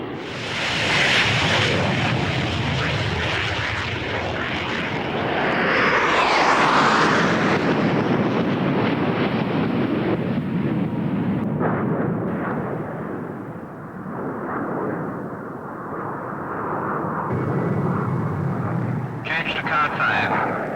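Formation of nine frontline fighter jets at an RAF display, a loud sustained roar rising and falling as the aircraft pass, with a surge around the middle and a fresh rush near the end.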